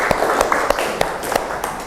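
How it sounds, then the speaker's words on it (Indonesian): Students clapping in a classroom, a short burst of uneven claps with a few sharper hand slaps standing out, close and fairly loud. "Beri tepuk tangan kita semuanya"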